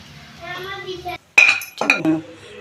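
Cooked curry is moved into a bowl with metal utensils clinking against dishes, a few bright ringing clinks after a short pause, following a voice speaking.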